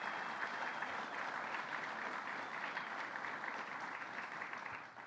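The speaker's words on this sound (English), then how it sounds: "Let's give them a round of applause." Steady crowd applause at a governor's indoor announcement event, a dense even wash of many hands clapping that holds for several seconds before easing off at the end.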